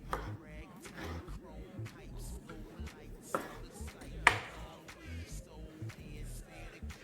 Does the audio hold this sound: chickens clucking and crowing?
no